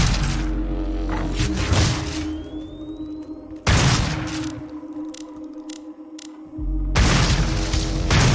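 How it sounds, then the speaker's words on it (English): Loud frag grenade explosions from Doom boom out in three heavy blasts amid ongoing game noise, with sharp clicks between the second and third. "Use the frag grenade because I barely use it as is"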